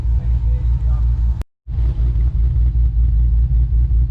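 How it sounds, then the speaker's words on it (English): A Hemi 6.4 V8 fitted with a stage 1 cam idles choppily up close, its loud, lumpy exhaust pulsing in an uneven loping rhythm, cut by a brief silent gap partway through. "choppy idle with the stage 1 cam"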